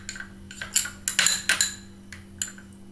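Slime being mixed by hand in a bowl, with a series of sharp clinks and taps at uneven intervals over a steady low hum, close and moderately loud.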